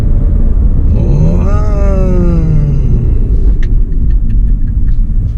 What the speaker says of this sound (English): Very loud, the drivetrain.